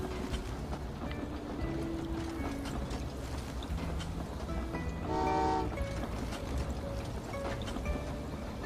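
A train in the video game Train Valley 2 rumbles along under soft game background sounds, with a brief horn-like tonal blast sounding once midway.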